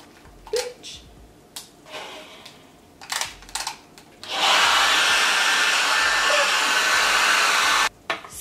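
Hair dryer blowing on a frontal ponytail hairstyle, switched on partway through and running as a loud, steady close roar for several seconds before cutting off, after a few brief handling taps.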